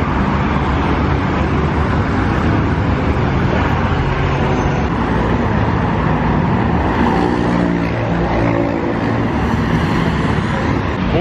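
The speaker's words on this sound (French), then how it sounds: "Là je suis à l'arrêt de bus depuis une demi-heure je crois maintenant" Dense, continuous road traffic at a bus stop in Bogota, Colombia, with loud engine rumble and vehicles passing close by in a steady wash and no voices.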